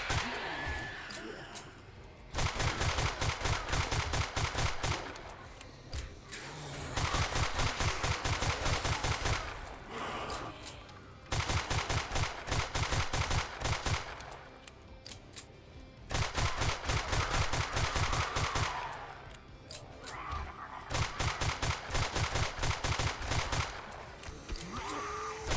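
Long bursts of rapid automatic gunfire in the zombie survival game 7 Days to Die hammer away in loud, dense strings several seconds long, broken by short pauses, with no talking.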